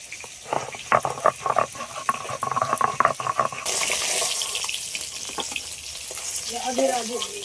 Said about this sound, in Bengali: মাছগুলো ভাজা হয়ে গেছে, তুলে নিচ্ছি।